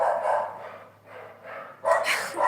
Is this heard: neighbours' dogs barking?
yes